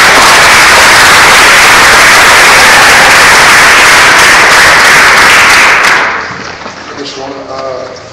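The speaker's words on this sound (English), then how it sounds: "So I'd like to give him a warm round of applause." Loud, dense applause from an audience for a speaker on a prison-reform panel, sustained clapping that fades after about six seconds into a quieter tail with a voice emerging.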